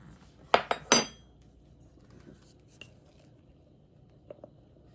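A spoon stirs all-purpose flour into a sourdough starter in a jar. A few sharp clinks come close together near the start, then only faint, quiet scraping follows.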